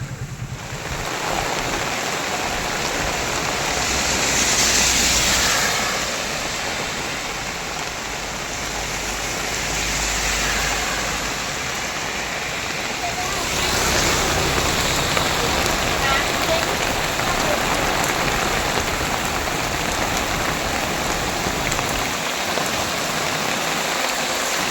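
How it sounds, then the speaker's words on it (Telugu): Heavy rain pours steadily outside during a storm, a dense, loud hiss that continues the whole time, swelling and easing slightly, with no voices heard. "వర్షం అయితే ఫుల్గా వస్తుందండి బయట మొత్తం అంతా."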